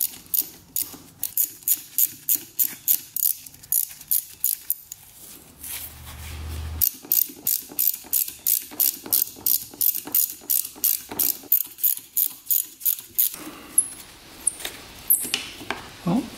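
A ratchet loosens bolts on the carburetor of a 2-stroke trike left outside for years, a close series of rapid clicking bursts in steady repeated strokes with brief pauses between them.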